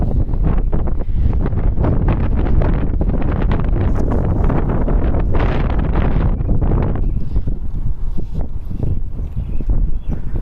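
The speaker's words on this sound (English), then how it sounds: "There's gusts of a good 15-20, nearly knocking me off my feet." Strong wind gusts buffet the microphone in a loud, continuous roar, surging and dipping throughout with no voices.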